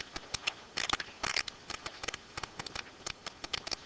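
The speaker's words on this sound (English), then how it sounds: "you can get your scissors out, cut it in half" Scissors snipping through a big sheet of paper to cut it in half, a steady run of quick, crisp cuts with short pauses between them, close but soft, with no voices.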